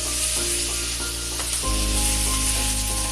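Chicken for a Bengali-style cream chicken cooks in a pan with a steady, close sizzle that carries on unbroken, with no talking.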